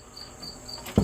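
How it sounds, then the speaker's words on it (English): A cricket chirps in short, evenly spaced high trills through a quiet garage where a 2004 Mercedes C320 4Matic gets front wheel bearing work, with a brief thump near the end. "Once again, sorry about the cricket."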